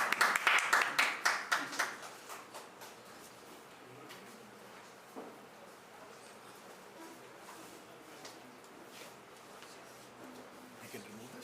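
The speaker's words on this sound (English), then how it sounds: "round of applause." Audience at a security seminar gives a brief burst of rapid clapping that dies away within about two seconds, leaving a quiet room with faint background murmur.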